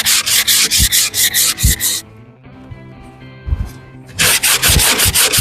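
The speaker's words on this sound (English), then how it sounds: "I'm not just rubbing through wallpaper, I'm rubbing through PVA as well." A sanding block scrapes back and forth over wallpaper and PVA glue in a campervan interior, giving rhythmic, loud, close rasping strokes that pause briefly in the middle and then resume.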